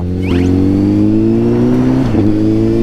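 Sport motorcycle engine, a Kawasaki ZX-6R, revving hard and close, a loud sustained buzzing drone with a quick blip and pitch dip during a downshift near the two-second mark.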